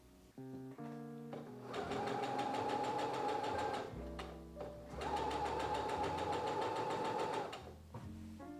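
A sewing machine stitches a cafe curtain in bursts, with short slow starts and stops and then two long steady runs of rapid mechanical whirring and clatter, close and clear with no talking.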